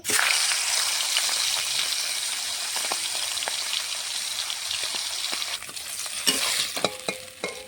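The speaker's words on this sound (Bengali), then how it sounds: "মাছের মুড়োটা এখন ভেজে নেব।" A fish head fries in hot mustard oil in a wok, giving a loud continuous crackling sizzle with scattered pops and a few spatula knocks near the end.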